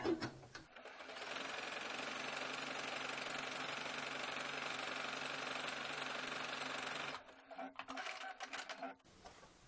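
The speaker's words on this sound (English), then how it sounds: "Now I just changed my machine to a zigzag." Sewing machine running a zigzag stitch on skirt panels: a steady, close mechanical whir for about six seconds, then stopping and giving way to brief handling clatter and rustling.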